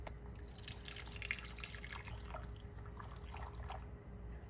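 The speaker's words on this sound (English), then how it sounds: "I've already prepared hot water to pour over our room temperature eggs so that we can" Hot water being poured over room-temperature eggs in a pot, a soft, continuous splashing trickle with scattered drips, quiet and close, with no voices.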